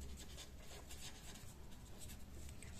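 Steady scratchy rubbing of a marker or chalk across a board, continuous and close, with no voices, during a nodal analysis lesson on AC circuits.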